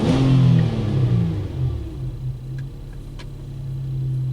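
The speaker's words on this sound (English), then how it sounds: "I'm going to just rev the engine up." A Nissan Murano engine with a low-power complaint revs up, then its steady rumble settles back toward idle, heard close and loud with a couple of faint ticks.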